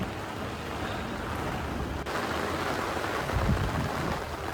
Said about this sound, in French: Là maintenant c'est tempête de pluie.